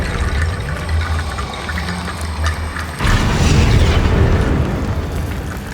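Spell blasts from Incendio and Confringo go off in Hogwarts Legacy: a low rumbling texture gives way to a loud, booming burst with a crackling, rushing tail that slowly fades.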